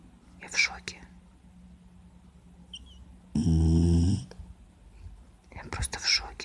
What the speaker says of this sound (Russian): У всех ли так храпят бассейнжи?